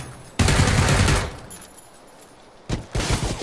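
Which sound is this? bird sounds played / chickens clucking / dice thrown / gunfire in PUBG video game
gunfire in PUBG video game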